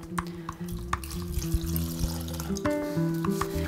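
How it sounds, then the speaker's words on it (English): Lime juice is poured over fresh fish for Peruvian ceviche, giving a close, splashy liquid pour with drips and small knocks that intensifies in the final second. "we're gonna put the lime juice"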